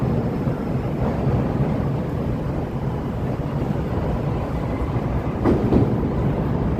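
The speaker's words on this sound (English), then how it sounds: "Here comes the train." A Chicago Green Line elevated train pulls into Washington/Wabash station, a steady loud rumble and rush with wind noise on a city street, with no speech.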